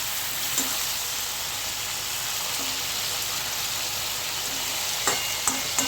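Spice paste of ginger, garlic, pepper and chili frying steadily in a pan for a chicken kosha, with a constant close sizzle and a few sharp scrapes of stirring near the end.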